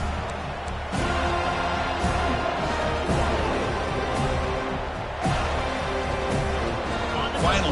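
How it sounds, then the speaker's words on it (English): Stadium crowd in a Madden football video game during the final minute of regulation, a steady dense roar of cheering and noise running throughout at even loudness, with sharper swells at intervals. "The crowd is really getting into it."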